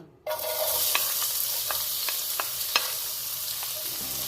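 Sliced onion drops into hot cow ghee with a pair of spice leaves and bursts into a loud, steady sizzle. Faint periodic clicks from stirring cut through, close up and with no talk.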